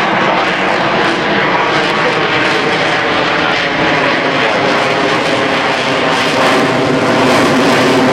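An F/A-18 Super Hornet jet roars loud and continuous through a loaded high-alpha roll at an airshow, its engine noise steady and close for the whole stretch with no talking.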